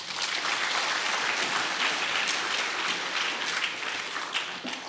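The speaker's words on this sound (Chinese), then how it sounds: "那我们热烈的掌声欢迎庄院士" A lecture hall audience at an academicians' conference claps warmly to welcome a keynote speaker, a loud, even wash of applause sustained for about five seconds.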